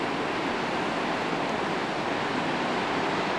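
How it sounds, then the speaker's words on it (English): Mild ocean waves of about a couple of feet wash onto a beach at Panama City, Florida, forming a steady, unbroken roar of surf with no distinct breaks. "the waves are not too much"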